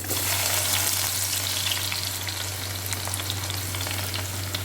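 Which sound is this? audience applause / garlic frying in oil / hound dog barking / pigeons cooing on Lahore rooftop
garlic frying in oil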